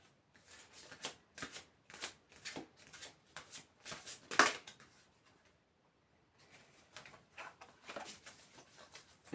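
Oracle cards being shuffled by hand in quick, rhythmic riffling bursts, close and crisp, pausing for a couple of seconds before the shuffling resumes more softly.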